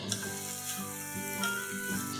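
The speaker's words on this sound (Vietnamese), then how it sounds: "Bây giờ mình sẽ bắt lên bếp. Mình sẽ xào cho thịt săn lại nhé." Fatty pork belly stir-frying in a hot pan without added oil, a steady close sizzle with scraping stirs and faint clinks of the utensil against the pan.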